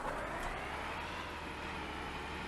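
A steady, low Volvo truck engine drone in a truck simulator game runs continuously at a constant pitch, with a faint hiss above it and no voices.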